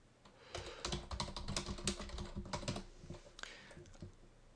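Rapid typing on a computer keyboard while entering text into a drawing in LibreOffice Writer, a dense run of close, crisp key clicks that thins out toward the end, with no talking.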